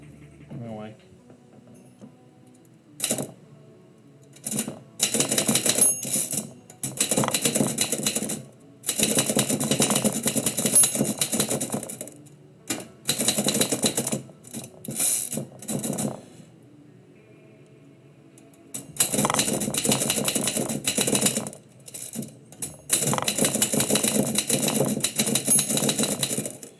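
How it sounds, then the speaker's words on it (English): Bursts of rapid typewriter keystrokes come in long runs with short pauses, loud and close, during a poetry livestream with no talk over the clacking. "typewriter."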